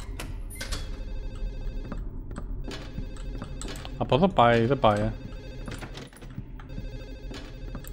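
An old telephone rings repeatedly in the horror video game Silent Hill 4, a shrill bell trilling at steady intervals beneath ambient game noise while someone talks over it.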